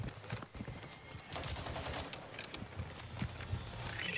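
Gunfire in Call of Duty Warzone 2, a mix of sharp shots and short bursts spread across a busy battle soundscape, moderately loud with no clear speech.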